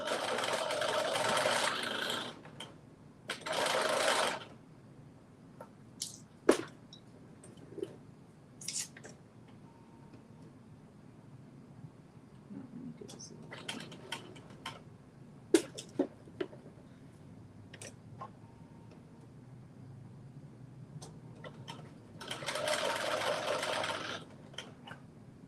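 A home sewing machine stitches a Vogue dress pattern in a few short, quiet runs of whirring needle chatter, with clicks, handling and rustling between bursts.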